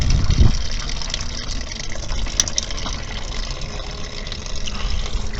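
Coolant, mostly water, drains from the radiator of an Infiniti Q45 in a steady, close gushing pour that runs continuously, with a brief heavier splash at the start and no talking.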